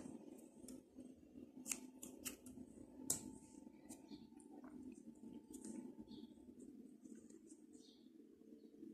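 Scissors snip crochet yarn at a hairband project, giving a few sharp close clicks early on over a quiet steady room hum, then near silence with faint handling sounds.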